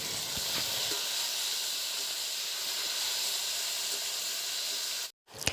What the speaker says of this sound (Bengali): এবার কুলগুলো দিয়ে সব কিছু ভালোভাবে নেড়ে নিচ্ছে।